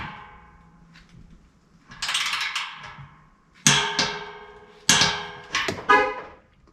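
Hand tools tighten the exhaust flange bolts and clamps on a Borla system on a 2024 GMC Sierra 2500HD AT4 up on a lift, giving sharp metallic clanks and ratcheting bursts in several close, ringing strikes separated by short pauses.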